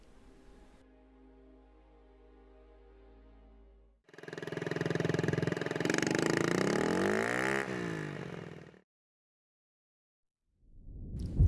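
A Honda Ruckus scooter engine idles softly, then bursts into a loud, close revving run for several seconds before cutting off abruptly. A brief quiet gap follows, then another short rise.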